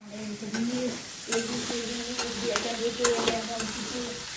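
Poha frying in a pan with a steady soft sizzle, broken by repeated scraping strokes of a spoon stirring it at close range.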